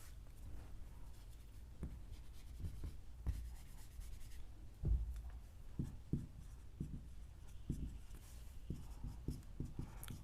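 Pen on paper during a class-12 physics lesson on electric dipole moment: scratchy handwriting strokes and taps come in irregular bursts, close and fairly quiet, over a faint room hiss.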